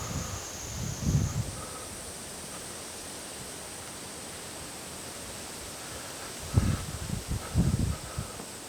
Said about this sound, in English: Suddenly it gets quiet and windy here.